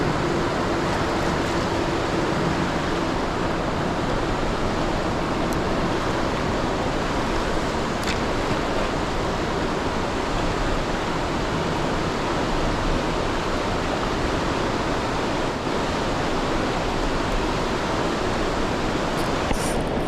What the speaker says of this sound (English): this area of the Potomac River is extremely flooded, and the dam has been open, which is causing the water to rush.